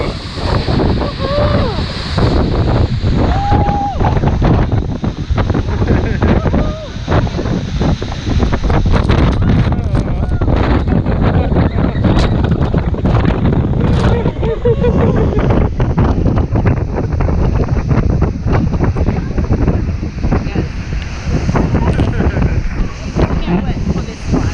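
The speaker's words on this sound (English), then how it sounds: "Very hard wind as well." Strong wind batters the microphone on a cruise boat at Milford Sound, a loud continuous roar with gusty buffeting and surf-like wash throughout.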